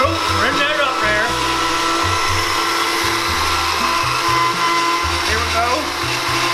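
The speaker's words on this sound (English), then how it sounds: "hold the top of the blender, make sure it doesn't pop off now, and you're gonna put it on high" A blender running on high whips confectioner's sugar for fake blood, a loud steady motor whine with shifting low pitch as the load changes and faint talk underneath.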